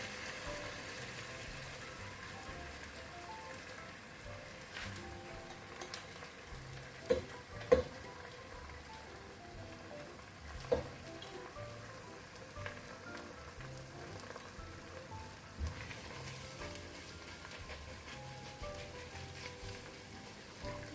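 Beaten egg is added to vegetables already frying in a pan, giving a quiet, continuous sizzle with a few sharp clicks of a utensil against the pan over a long stretch.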